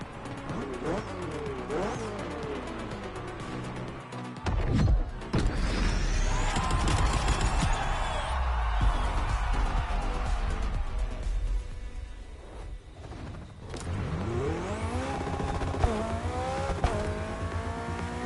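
A BMW 3.0 CSL in the racing game The Crew Motorfest, its engine rising and falling through revs and gear changes, with tire squeal and skidding and a loud, constant car roar throughout.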